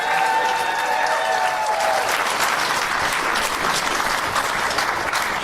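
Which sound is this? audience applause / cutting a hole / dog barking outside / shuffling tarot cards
audience applause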